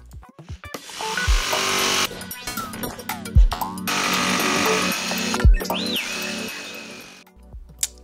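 Power tool cutting out a wooden handle piece for a DIY Power Rangers morpher, running loud in long steady bursts with brief pauses and sharp knocks between cuts.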